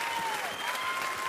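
Studio audience on the Star Academy TV show applauds a singer with a dense, steady burst of clapping throughout, a faint sustained tone running beneath the crowd.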